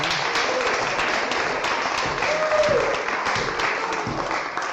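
Open mic audience gives a sustained round of applause, dense clapping from a small crowd at even loudness, with a brief whistle-like tone rising midway.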